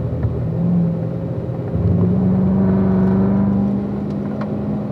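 A race car engine on the Spring Mountain track holds a steady loud drone and rises in pitch as it accelerates through a corner, close and continuous with no talk.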